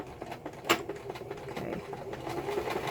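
Sewing machine backstitching fabric, a steady close mechanical whir with rapid needle ticking that runs continuously at moderate volume.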